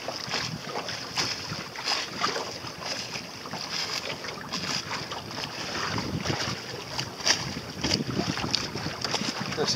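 An Optimist sailing dinghy moving under sail on open water, with steady wind rush, splashing water against the hull and gentle creaks, fairly close and continuous, with no voices.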